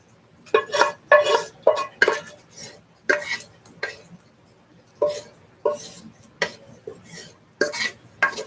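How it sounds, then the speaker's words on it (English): Metal scraping inside a cooking pot comes in a series of short, uneven strokes with gaps between them. The strokes are close and moderately loud, and a voice murmurs now and then. "Hold the pot over and we can scrape it out."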